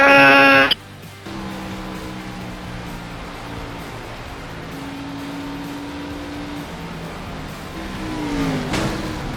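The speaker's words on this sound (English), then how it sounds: "And gentlemen, start your engine!" Race car engines rev in a racing video game, a steady droning engine tone with rising pitch sweeps near the end, following a short burst of game sound at the start.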